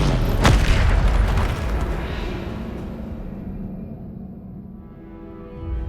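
A Depulso spell blast in the video game Hogwarts Legacy, a loud booming burst near the start that rolls into a rumbling decay and fades over several seconds.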